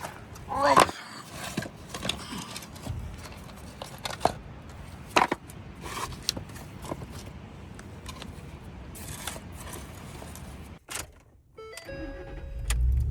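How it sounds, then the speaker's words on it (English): A vehicle reverses up onto leveling blocks behind its back wheels at a campsite. The engine runs at a low idle under repeated knocks and thumps from the blocks, with a brief quiet gap before a final rise in engine noise. "And then we're just gonna back right up over them. And reverse. A little bit of gas."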